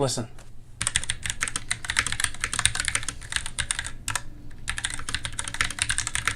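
Rapid typing on a clicky Razer Star Wars Stormtrooper mechanical keyboard, close and loud, a dense run of crisp key clicks with two brief pauses before typing resumes.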